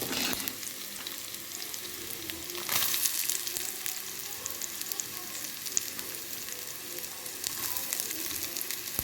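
Onions sizzle steadily in a pan with ginger-garlic paste while a mutton brain roast is being made, a continuous close frying hiss with occasional stirring and no talking.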